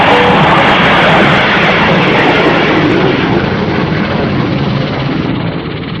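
A helicopter flies close by in a 1967 Captain Scarlet puppet series, a loud continuous rushing rotor and engine roar holding steady and easing slightly toward the end.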